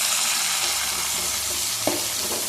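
Two medium-sized chopped tomatoes sautéing in a pan while making goat trotter paya, a steady broad sizzle with a faint stir scrape near the end, close and continuous with no talking.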